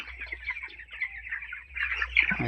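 A flock of chickens on a poultry farm clucks continuously, close by, rising into a louder burst of calls near the end over a faint low hum.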